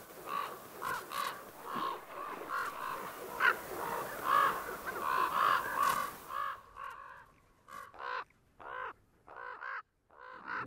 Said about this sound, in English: Except for the pesky ravens.